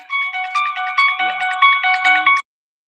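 A phone ringtone plays loud and close, a bright warbling electronic melody of quick repeated tones that runs for over two seconds and then cuts off abruptly into silence.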